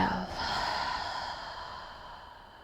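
A long, soft breath let out while lying with knees hugged to the chest in a morning yoga session, a close, breathy sigh that starts strong and slowly tapers away.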